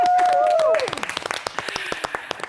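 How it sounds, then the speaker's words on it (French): Applause from a studio audience on a French talk show, scattered sharp claps that start under a musical tone and voices, then continue as loose, uneven clapping. "on applaudit tout le monde"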